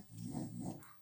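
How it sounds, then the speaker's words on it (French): A dog snores close by, a soft low growling rumble that swells and fades over about a second, faint and with no talk. "c'est mon chien qui ronfle, je suis désolée"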